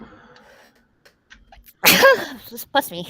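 A single sharp sneeze bursts out after a few quiet mumbled words, followed by brief voices and sniffing.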